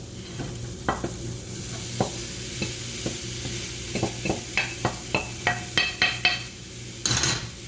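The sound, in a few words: tofu crumbles frying with garlic in a pan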